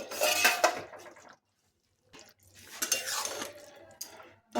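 A metal lid clatters and scrapes as it is lifted off a pot of simmering jackfruit curry, two short close bursts of metallic clinking separated by a silent pause, with a light knock at the end.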